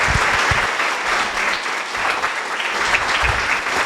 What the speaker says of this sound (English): Give another round of applause for the panel.